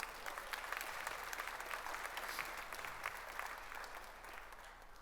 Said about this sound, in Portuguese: Aplauda o Senhor por essa palavra, em nome de Jesus